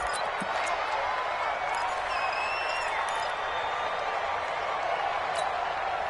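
Stadium crowd noise from a PS4 football video game at Arrowhead, a dense continuous roar of a large crowd with a few faint whistles and thuds, steady and fairly loud throughout.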